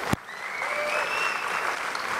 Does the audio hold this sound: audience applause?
yes